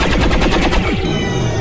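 Loud rapid automatic gunfire in the XCOM 2 video game, a fast burst of evenly spaced shots for under a second trailing into a rumbling echo, with no talking.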